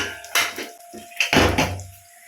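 A pressure cooker is opened after cooking: a few close metallic clanks and scrapes of the lid and pot, separated by short pauses.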